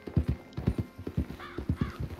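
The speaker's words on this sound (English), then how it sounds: "That's a nice horse he got." Horse hooves clip-clop in Red Dead Redemption 2, a close, steady rhythm of hoofbeats in quick pairs. Faint whinny-like tones sound midway, and there is no talking.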